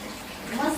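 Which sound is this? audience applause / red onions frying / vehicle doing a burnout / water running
water running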